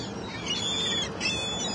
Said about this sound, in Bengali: এগুলা বক, এরা এই গরমের মধ্যে চলে আসে